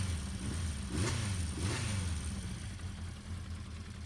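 A 1976 Honda CB400/4 Super Sport motorcycle engine starts and idles, giving a close, steady low rumble with a couple of brief blips of revving early on, then settling into an even idle.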